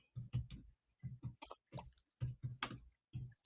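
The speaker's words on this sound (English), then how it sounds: "Y'all got me typing" Rapid keyboard typing in short bursts of clicks separated by brief pauses, close and moderately quiet, with no talking.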